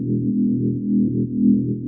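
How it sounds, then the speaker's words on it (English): A low, sustained synth drone swells and recedes in slow waves, deep and steady with no other sounds. "the first thing I'm going to do is just sort this drone hit here"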